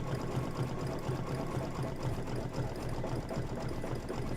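A sewing machine stitches fabric pieces together, its steady mechanical whir running continuously and close by, with no talking.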